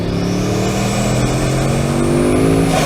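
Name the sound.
W16 engine sequential turbos engaging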